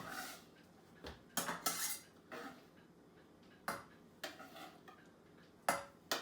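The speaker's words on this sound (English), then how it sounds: "now that I have my garlic fairly well cut up, I'm going to put it in a saucepan here" Chopped garlic tipped into a saucepan, with several sharp metallic clanks and scrapes of a utensil against the pan, spaced out and close, over a quiet kitchen background.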